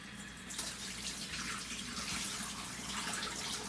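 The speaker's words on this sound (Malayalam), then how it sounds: "അത് കഴുകി ആ വെള്ളം കളയുക." Water runs steadily from a kitchen tap while rice is washed, a close, continuous splashing rush that starts softer and grows fuller after the first half second, with no voices.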